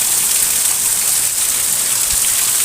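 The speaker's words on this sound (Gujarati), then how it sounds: "તમે જોઈ શકો છો બહુ એટલે બહુ વરસાદ ચટાણે ધોધમાર પડી રહ્યો છે" Heavy rain pours down steadily during a thunderstorm in Dhari, a dense continuous hiss with no break throughout, loud and close, with a faint low rumble near the end.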